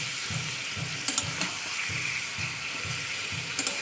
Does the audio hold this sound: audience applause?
no